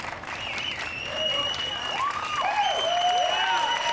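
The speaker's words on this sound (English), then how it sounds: "Ballard sits up, gets a round of applause from all the fans." Fans in the stands applaud at a Little League baseball regional game between Sammamish, Washington and Billings, Montana. Steady clapping swells, mixed with whoops and cheering voices that rise and fall over it.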